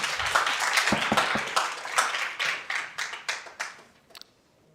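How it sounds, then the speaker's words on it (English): Applause from the audience at a Montgomery County Public Schools board meeting, starting as a brisk crowd of clapping and thinning into scattered, separate hand claps before fading out. "Again, please hold your applause."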